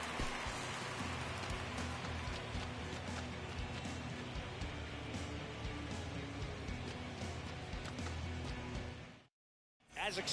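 Heavy rain pours steadily onto a baseball stadium during a rain delay as the tarp goes onto the infield, a dense continuous hiss that runs for about nine seconds before a brief dropout.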